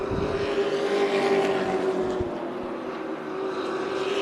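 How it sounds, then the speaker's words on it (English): Race cars roar around an oval track at Tucson Speedway, a loud sustained engine drone that swells and then recedes as they pass. "these cars make their way through turn 4"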